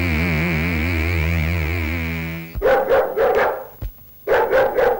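Dogs barking in a street, several sharp barks in quick bursts after a sustained wavering musical tone ends, loud and close.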